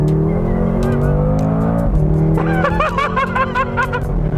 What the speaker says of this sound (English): the sports exhaust comes alive and the gear shift gives you a thump with each shift